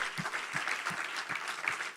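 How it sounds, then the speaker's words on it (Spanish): A church congregation applauds during a sermon, a continuous clatter of many hands, fairly faint and distant, with some rhythmic beats. "Dale otro aplauso al Señor"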